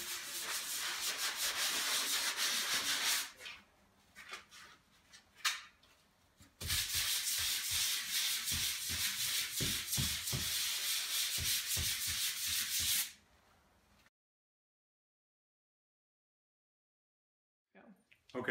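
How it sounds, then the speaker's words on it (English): A 400 grit sandpaper block sanding a popcorn ceiling smooth: loud, close, continuous rasping in long runs, broken by short pauses, then silence before a faint sound at the end. "we're just going to go over the whole ceiling and just sand down all the spots, smooth them out"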